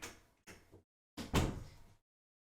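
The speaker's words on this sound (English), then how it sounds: "gotta open that door." A door opens indoors in two close, fairly faint bursts: a short knock-like rattle, then a louder swinging thud that fades out, with no talking over it.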